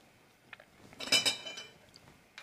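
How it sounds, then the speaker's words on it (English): Whisk clinking against a bowl while beating egg yolks for a veal blanquette liaison, a short cluster of quick metallic taps that swells briefly and then fades into quiet scrapes. "we're going to whisk our egg yolks"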